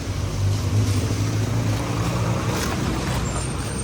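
Vehicles rumble past on a busy street in Lutsk, Ukraine, a loud, steady engine roar with swelling whooshes of passing traffic close by.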